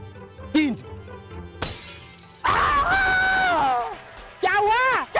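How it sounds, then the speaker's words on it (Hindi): A glass bottle smashed in a Hindi TV serial scene, a sharp shattering crash amid loud shouting and screaming voices, with further bursts of yelling afterward. "ये देख बोतल ऐसे फोड़ते हैं"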